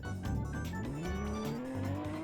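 A car engine starting up in a Roblox driving game, a rising rumbling tone that climbs steadily in pitch over about two seconds, loud and close with a steady synthetic drone.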